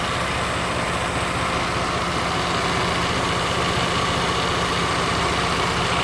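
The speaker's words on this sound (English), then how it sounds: "The engine's running pretty good." A van engine idles after new spark plugs and ignition coils are fitted, a loud, steady, even rumble with a fine regular pulse, close by and alone.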